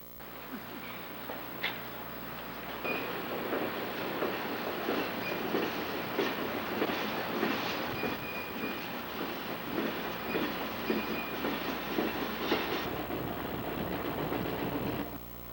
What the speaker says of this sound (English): an upgrade piggyback train is barely making the grade